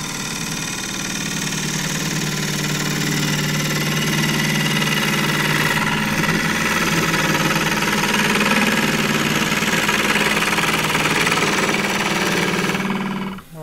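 Wood lathe turning a claret ash vase, a steady loud motor drone with a rough, chattering scrape of the tool cutting the spinning wood, continuous until a brief drop at the very end.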